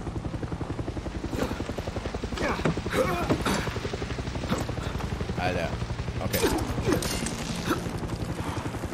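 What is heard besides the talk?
helicopter in video game Far Cry 6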